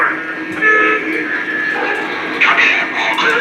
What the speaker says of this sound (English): Dispatcher, train is inbound.